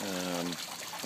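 A night-lit water feature with a pool trickles as a soft, steady wash of water. A voice is briefly heard at the start of the short stretch.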